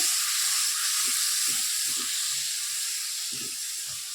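Spice paste sizzling in hot oil in a pan over a lowered gas flame, for a rohu fish-head ghonto: a steady, bright hiss of frying throughout, with faint soft knocks beneath it.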